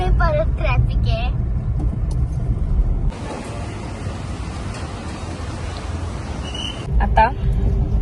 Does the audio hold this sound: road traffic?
yes